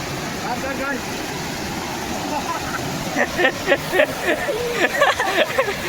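A 150-foot-high waterfall gives a constant broad rushing roar in the background, while several people talk and shout loudly over it toward the end.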